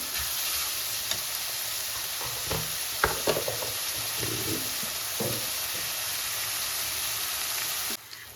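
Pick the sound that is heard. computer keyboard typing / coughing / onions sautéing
onions sautéing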